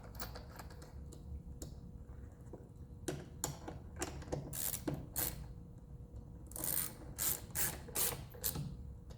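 Ratchet tightening a bracket for a DIRTYDOG 4X4 sun screen on a four-door Ford Bronco, giving bursts of rapid clicking pawl strokes, close and fairly loud, with quieter pauses between, no speech.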